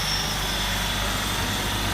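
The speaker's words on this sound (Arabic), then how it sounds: "يلا مترو" A Cairo metro train rumbles steadily with a dense, continuous roar of wheels and carriage noise, heard from close by inside or beside the train.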